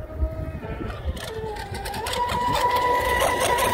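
Lipo battery–powered RC model motor at full throttle, a rising whine with steady tonal harmonics that grows louder and more sustained over a few seconds, heard up close with outdoor wind noise.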